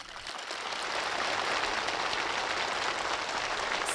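Sustained, dense applause from participants at a ceremony handing over new rural housing permits to farm workers, a steady crackling wash of clapping that holds at even loudness from start to finish.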